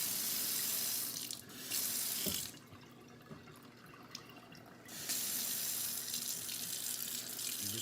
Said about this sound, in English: rinse the meat, get all the blood out.